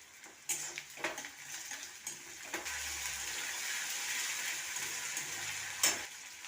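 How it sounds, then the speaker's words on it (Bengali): Crushed garlic frying with browned onions in oil, a continuous close sizzle broken by a few sharp metal spatula clinks and stirring scrapes against the pan. "এবার থেতো করে রাখা রসুনটা দিয়ে দেবো।"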